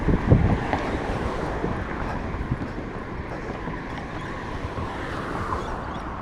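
Floodwater on the Wollondilly River pours over a weir after heavy rain upstream, making a steady, dense rushing roar with wind buffeting the microphone and no voices.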